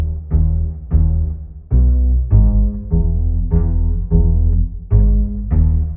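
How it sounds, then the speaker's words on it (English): A plucky Balkan Ethnic Orchestra double bass sample with effects and simple EQ plays a bouncing line of deep, round, loud notes, about eight in six seconds, each decaying before the next, alone without voices. "Bass I used is like Balkan Ethnic Orchestra double bass."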